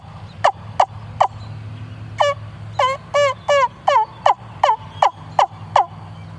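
Sharp, yelping turkey calls made with a homemade wing bone caller: a few single clucks, then a rapid run of rising yelps, loud and close over a low hum.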